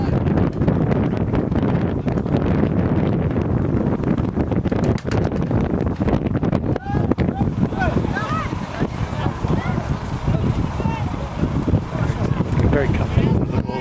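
Wind gusts buffet the microphone on an outdoor football pitch during a youth spring cup match, a loud, steady rumbling roar with a commentator talking over it throughout.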